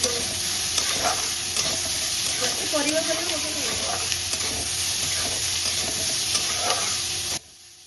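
Capsicum, carrot and sweet corn stir-fried in a pan while making macaroni, giving a steady loud sizzle and hiss with occasional stirring scrapes, a voice murmuring briefly in the background, before cutting off abruptly at the end.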